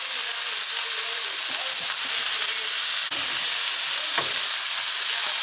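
Steak and onion searing in a hot pan make a loud, steady sizzle and crackle that carries on throughout, with a few faint stirring scrapes, close by and with no talk.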